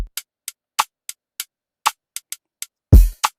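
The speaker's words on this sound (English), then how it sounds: "Then for the hi-hat, we're just playing some groove with it." Programmed hi-hat groove for an Afro fusion beat in FL Studio, crisp short ticks in a syncopated pattern, alone and close, with one heavier low impact hit near the end.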